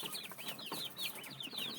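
Newly hatched, incubator-raised chicks only a few days old, kept in a box, peep in a rapid run of thin, high chirps close by.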